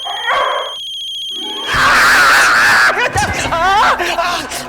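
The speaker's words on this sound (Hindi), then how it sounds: "हाँ पता है फोन बज रहा है।" A telephone rings with a steady electronic tone, and then a voice talks loudly over and after the ring.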